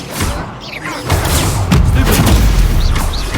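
Fire spell blasts in the video game Hogwarts Legacy, loud booming whooshes and thuds that roll continuously over a busy combat soundscape.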